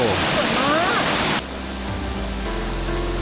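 Broad rushing waterfall roar fills the first part, then gives way to a quieter, steady wash of flowing water with a low rumble, at Khao Chong Lom, Khun Dan Prakan Chon Dam, Nakhon Nayok.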